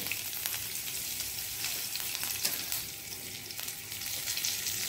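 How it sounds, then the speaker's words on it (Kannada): Mustard seeds splutter and crackle steadily in hot oil for a Tulunadu banana-stem chutney tempering, a dense, even sizzle with scattered sharp pops and no voices. "ಸಾಸಿವೆ ಉಡಿಲಿ"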